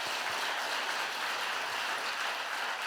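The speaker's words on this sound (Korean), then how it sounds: "우리 하나님께 영광의 박수를" Congregation applauding during a New Year's Eve church service, a dense, even wash of clapping that holds steady and fairly loud throughout, with no voices on top.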